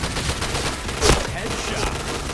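Gunfire in a shooter video game: dense, continuous shots with one sharper burst near the middle, heard under game noise with players talking.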